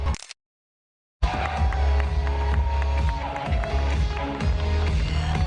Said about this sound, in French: On peut les applaudir encore bien fort